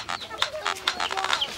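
Chickens clucking in quick, repeated bursts close by at a house in Uruana, Goiás, with a few higher squawks mixed in and no talking.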